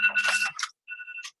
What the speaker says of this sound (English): Sorry, my phone's going off.